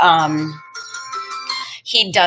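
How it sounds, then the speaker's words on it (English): A mobile phone rings with a bright electronic tone in a melodic, sustained pattern, close and fairly loud, briefly overlapping a voice at the start. "sorry, that was my phone."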